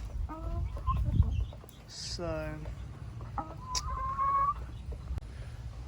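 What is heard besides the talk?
chickens clucking on a chicken farm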